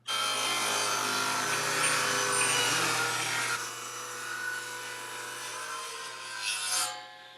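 Table saw cutting through wood, a loud steady whining roar with bright rasping as the blade works the board, easing after a few seconds to a lower spinning hum with a brief final flare; no voices.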